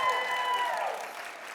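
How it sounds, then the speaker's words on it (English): Applause from a conference session audience, a steady wash of clapping that fades slightly toward the end, heard alone at moderate distance. "Can we please give them all a round of applause?"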